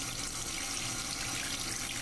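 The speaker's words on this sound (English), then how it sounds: "The water's starting to accumulate at the top." Tap water running steadily into a bathroom sink basin closed off by a pop-up drain stopper, a continuous close hiss and splash with no pauses.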